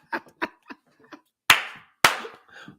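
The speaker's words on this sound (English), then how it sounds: "I'm just clapping." Two sharp, loud hand claps ring out close by, spaced about half a second apart, each with a short decaying tail, following a few brief murmured voice sounds and faint laughter.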